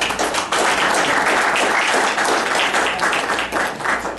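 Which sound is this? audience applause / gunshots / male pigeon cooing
audience applause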